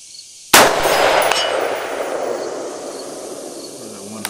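A rifle shot and bullet strike on a steel target at 1,000 yards, loud sharp onset followed by a long rolling decay, heard alone.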